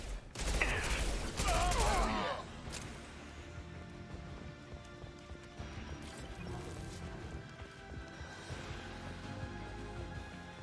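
Gunfire in the video game Mass Effect 2, with a loud crashing burst of shots at the start that settles into quieter, scattered combat noise beneath background music.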